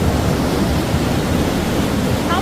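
Steady, loud rush of water flowing down in a national forest, a dense continuous roar with no breaks, like a strong cascade close by.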